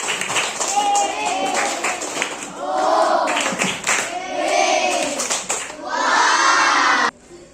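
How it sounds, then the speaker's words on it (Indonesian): Classroom applause for an elementary school class, with children clapping and shouting together in a loud, continuous burst that runs for about seven seconds before cutting off abruptly. "tepuk tangan untuk SD."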